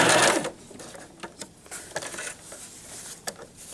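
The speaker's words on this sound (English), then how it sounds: "Sew to the end, back stitch," A sewing machine stitches fabric for a tissue box cozy with a short burst of rapid whirring, then quieter clicks and taps as the work is handled, close by and without talk.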